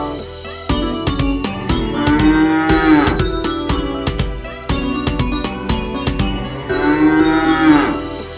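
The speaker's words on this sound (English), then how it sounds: "And on his farm he had a cow, E-I-E-I-O. With moo moo here and moo moo there" A cow mooing repeatedly within a children's farm song, the long low moos sounding loud over busy musical accompaniment with steady rhythmic beats throughout.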